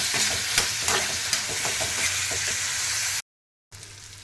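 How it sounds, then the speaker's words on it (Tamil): Tomatoes are stirred and sautéed with browned onions in a pan for arai keerai, a loud, close sizzle with spatula scrapes throughout before a brief sudden silence near the end. "வெங்காயம் நல்லா ப்ரௌன் கலர் வந்துட்டாலும் தக்காளியை போட்டு நல்லா வதக்கணும்."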